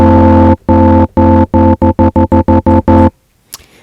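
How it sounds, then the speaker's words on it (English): Synth chord built in Ableton Live with stacked harmonic notes, played as one long sustained hit and then a run of shorter repeated stabs with brief gaps, loud and clean with no talk. "So when I play this whole chord together now"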